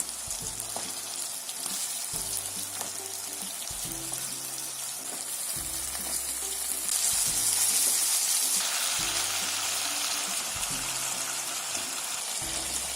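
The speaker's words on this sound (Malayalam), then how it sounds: "നല്ലോണം വഴറ്റി കൊടുക്കാം" Green chili and tomato sauté in oil in a pan for an egg curry with curry leaves, a continuous soft sizzle and crackle close by, with a low rhythmic scraping thud of stirring repeating every couple of seconds.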